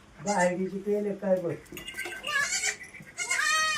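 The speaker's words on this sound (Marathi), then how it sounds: "पावसाच्या कारणाने शेळ्या आतल्या शेडमध्ये बांधण्यात येत आहे" Several goats bleat in quick succession, close by inside a shed where they are tied up because of rain, with faint clinking in the background.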